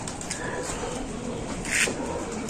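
A racing pigeon coos softly just after returning home, low throaty calls repeating close by over light outdoor background noise.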